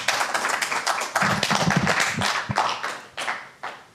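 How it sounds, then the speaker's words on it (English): Audience applause at a talk on urban hiking, with uneven, scattered claps from a modest crowd that rise and fade in bursts over a few seconds. "round of applause."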